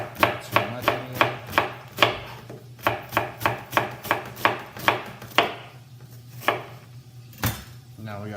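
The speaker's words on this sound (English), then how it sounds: "Now we got perfectly cut onions for our onion jam." A knife chops onions for onion jam on a board with quick, crisp, evenly spaced thuds that later slow and thin out. A low steady hum runs underneath, and no one talks.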